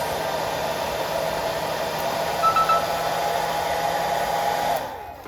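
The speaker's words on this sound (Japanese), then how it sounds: "はい、ケープしてドライヤーかけていきます。" A hair dryer blows steadily on a styled cosplay wig for about five seconds, a loud continuous whirring hiss that cuts off abruptly near the end.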